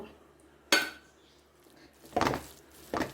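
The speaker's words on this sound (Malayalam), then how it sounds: "ഇത് നന്നായിട്ട് ഇളക്കി കൊടുക്കട്ടെ" A spoon stirs spices in a pan after black pepper powder goes in, for iftar dishes: three sharp metallic clinks and scrapes against the pan, separated by quiet gaps.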